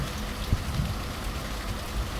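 Heavy rain falling in Hyderabad makes a dense, steady hiss of drops on surfaces, close and continuous throughout the short stretch, with no voices.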